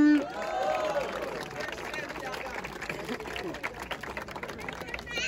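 A live crowd at a Brazilian rap battle final roars and cheers for contestant THM, a dense sustained mass of shouting and whooping that carries on throughout with scattered claps.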